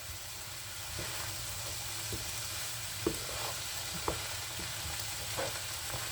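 Onions sautéing in a pan for a Calabrese peperonata give a steady, close sizzle, with a few sharp clicks and scrapes of stirring dropping in at intervals and no talking.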